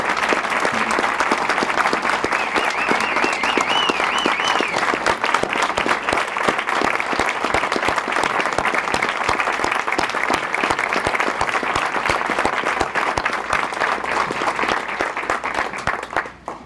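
A hospital audience applauds a $5 million donor at a medical center building event, with loud, sustained clapping from a sizeable crowd that carries on evenly for over fifteen seconds before cutting off.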